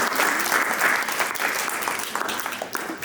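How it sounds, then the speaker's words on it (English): Audience applause at a community event documentary screening, dense steady clapping from a crowd indoors, fairly loud, with faint voices mixed in. "let's give him a round of applause"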